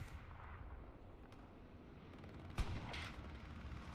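Gunfire in a World War II shooter game during a fight around the Carentan train station, a steady rumble of distant shots under the mix, with one sharp, louder crack near the middle followed by a brief burst.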